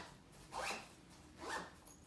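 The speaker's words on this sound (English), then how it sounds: "I simply zip this up." A travel packing cube is zipped shut in two quick zipper pulls about a second apart, close and fairly quiet, with no talking.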